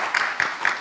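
Audience applause at a French prize ceremony for Alzheimer's awards, a brief burst of several distinct claps from a seated crowd indoors.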